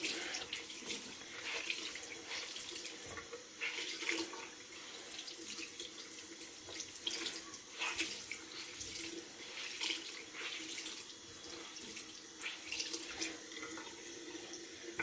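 A makeup beauty blender sponge is rinsed under a running tap, producing a steady, close splashing stream of water into a sink with irregular squelches and splatters as it is squeezed, no talking.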